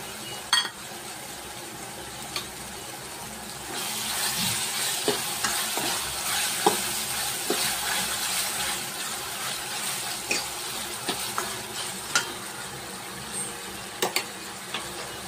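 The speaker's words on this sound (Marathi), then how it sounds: "एकत्र आपण भाजून घेऊया व्यवस्थित तेल सुटेपर्यंत" Masala and tomato puree roasting in hot oil while a spoon stirs it, a continuous sizzle with intermittent scraping clicks of the utensil against the pan, close and moderately loud.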